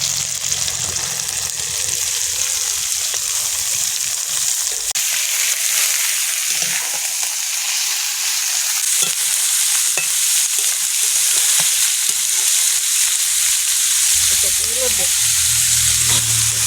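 Cabbage frying in poultry chicken fat and skin in a pan, with a steady, continuous sizzle and occasional stirring scrapes throughout.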